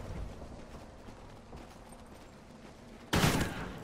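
AK rifle in Call of Duty: Ghosts, quiet game ambience with faint mechanical noise, then a sudden loud burst of gunfire near the end.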